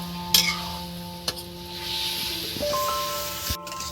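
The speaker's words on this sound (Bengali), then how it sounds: "মশলার সঙ্গে আর আলুগুলো ভালো করে একদম নেড়ে চেড়ে নিচ্ছি" Potatoes being stirred with spice masala and a little water in a pan, a steady soft scraping and stirring with a few sharp utensil knocks against the pan and a faint sizzle underneath, no voices.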